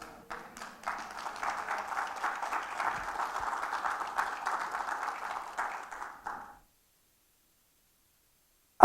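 A church congregation at a thanksgiving service claps for the Lord, a dense, fairly soft patter of many hands that runs for about six seconds and then stops, leaving near silence.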